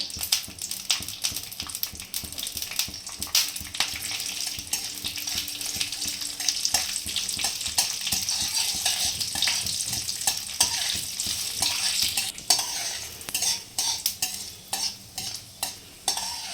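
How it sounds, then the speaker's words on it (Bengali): Dry red chillies and whole cumin seeds sizzle and crackle in hot oil, with a busy, continuous frying hiss broken by bursts of stirring and spoon scrapes, close and fairly loud, with no talking. "এই যে দুটো শুকনো লঙ্কা ফোড়নের জন্য এটা দেবো। আর এই যে জিরেটা, গোটা জিরে 7 চামচের মতো।"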